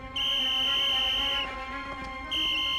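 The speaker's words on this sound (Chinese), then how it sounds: "吹哨子，让兄弟们追" A shrill whistle blows in two long sustained blasts with a short gap between them, loud and close. It signals soldiers to give chase in a wartime drama set during the anti-Japanese war.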